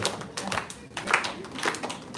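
A child claps her hands at a class gathering in Yokohama, Japan, giving a run of soft, quick claps in short bursts, with people talking around her.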